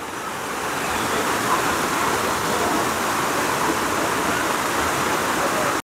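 Mountain water rushes down a channel through a forest beside a waterfall trail, a loud, steady roar of flowing water heard up close that stops abruptly at the end.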